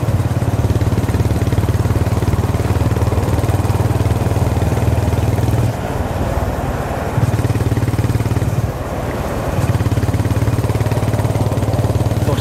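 A Honda GB350S single-cylinder motorcycle cruises steadily in fifth gear along a Tokyo expressway at night, a continuous low engine thrum with rushing wind and a couple of brief dips in throttle.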